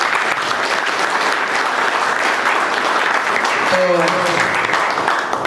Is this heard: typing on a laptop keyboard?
no